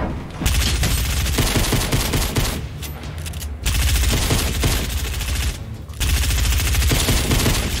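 AK rifle fire in the video game Fortnite, loud rapid automatic bursts in three long strings separated by brief pauses.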